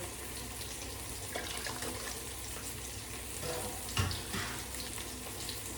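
Water pours into a pot of raw rice measured out for cooking, a steady splashing rush at moderate loudness with a few clinks of the container.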